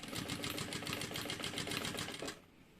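A sewing machine runs steadily, stitching close along a folded edge while sewing a necessaire, a fast even rattling run of needle strokes lasting over two seconds before stopping abruptly, close and alone.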